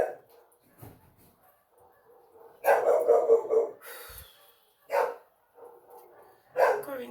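Dogs bark indoors in loud, separate bursts, with some whimpering yips between them, while a person talks nearby.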